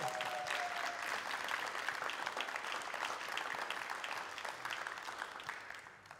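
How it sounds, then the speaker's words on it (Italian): An audience in the Sanremo Casino Theatre claps steadily for several seconds, a dense patter of many hands that slowly fades toward the end. "Applauso."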